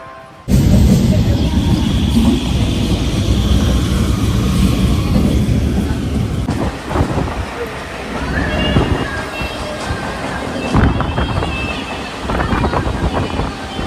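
Steady rumble of a moving train carriage fills the clip, with wind buffeting the microphone and faint voices in the background.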